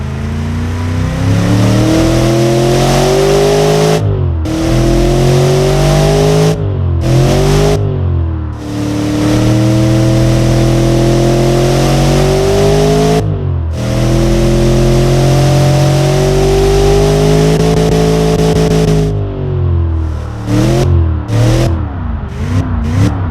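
A series of 90-degree V engines revs hard in the Automation racing game, with loud rising and falling snarls broken by several brief silent gaps between runs.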